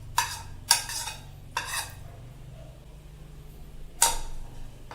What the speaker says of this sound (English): Now, let's mix it well.